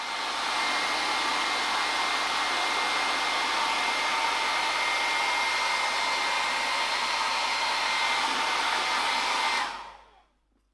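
Hair dryer blowing steadily to heat and soften sticker adhesive on a motorbike's soft black plastic parts, a loud, even airy whoosh for about nine seconds before it switches off and fades out.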